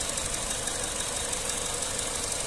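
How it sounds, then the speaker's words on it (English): A Peugeot 308 SW 1.6 VTi petrol automatic estate idles steadily, its engine giving a smooth, even, continuous hum with no talking over it. "Engine sounds very nice and smooth."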